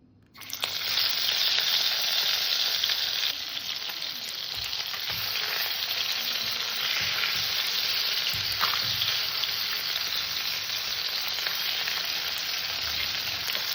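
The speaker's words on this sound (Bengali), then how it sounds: "মাছের লবণ হলুদ দিয়ে নিয়েছি সর্বপ্রথমে মাছটা ভেজে নেব" Tilapia fish rubbed with salt and turmeric fries in hot mustard oil. After a brief quiet start, a loud, continuous close-up sizzle sets in and holds steady to the end.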